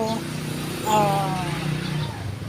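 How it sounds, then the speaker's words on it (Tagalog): Engine noise from a motorcycle or tricycle revving and passing nearby, a rising then fading motor whine over a steady rumble. "yung mga tunog ng mga tricycle, mga motor"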